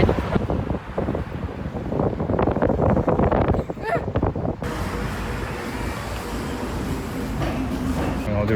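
Strong wind gusting outdoors, a steady loud rush of wind noise against the microphone with people talking over it in the first half.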